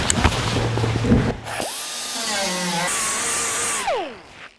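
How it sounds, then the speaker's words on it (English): A grinder works over welded-up holes in the firewall of a 1949 Chevrolet Gasser, a short burst of rising whine that holds with shifting pitch for a couple of seconds, then winds down and stops. "And now for a little grinding."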